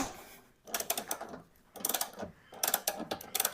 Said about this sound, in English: So now I'm going to loose the bolts